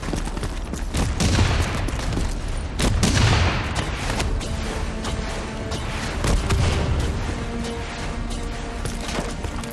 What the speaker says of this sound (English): Brace for impact. Javelin missiles inbound. Incoming!